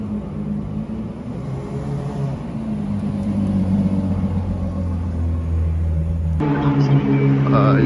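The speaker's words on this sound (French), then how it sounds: "ils viennent de démarrer une voiture de course qui fait un petit peu de bruit" A race car engine starts up and idles with a loud, steady low rumble amid a noisy indoor venue with simulators, with a rising surge near the end suggesting revving, while crowd chatter carries on underneath.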